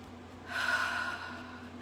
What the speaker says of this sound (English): And one more nice deep breath.